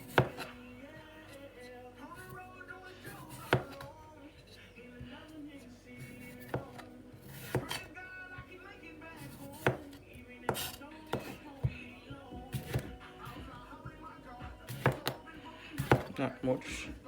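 Cucumber being chopped with a knife on a board for a Jamaican raw vegetable salad, a run of sharp, irregular close knocks against a soft background of handling noise.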